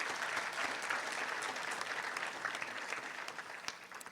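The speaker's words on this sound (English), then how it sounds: "let's just applaud her in her absence" A graduation ceremony crowd applauds in honour of an absent student award recipient, a sustained, even wash of many hands clapping from a fairly distant audience in a large hall.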